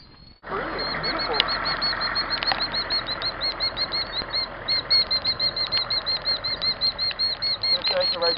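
Loud, rapid wingbeats of a bird flapping close by, a steady rhythmic fluttering with high repeated alarm calls layered over it, continuing throughout after an abrupt start.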